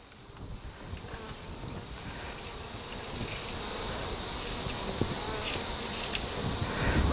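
Honey bees in a small hive split with capped queen cells give off a soft, continuous buzzing hum that stays steady and faint throughout, with light wind noise and no voices.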